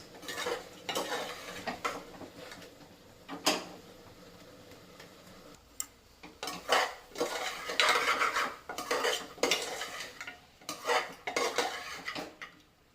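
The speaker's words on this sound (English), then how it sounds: "So let it mix properly, all the masalas." A spoon works masala through pork with mustard and bamboo shoot in a pan, repeated metal scrapes and clanks in an irregular rhythm, close and fairly loud, over a faint sizzle.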